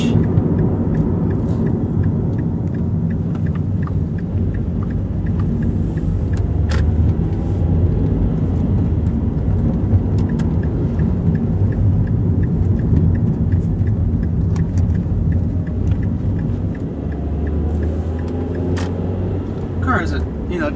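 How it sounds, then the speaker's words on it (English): A car engine with a Racing Beat exhaust growls steadily through a drive around corners, a continuous close rumble with someone talking over it throughout. "Car has a, you know, decent growl to it."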